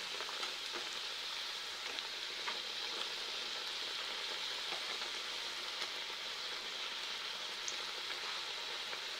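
A carrot-stuffed sweet snack frying in oil, a faint, even sizzle crackling steadily throughout with no talk.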